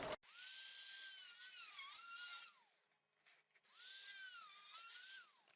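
A drill fitted with a 1/8 inch bit bores holes in a skull kit, whining at a high pitch in two long runs. The pitch sags under load, with a brief pause between the runs.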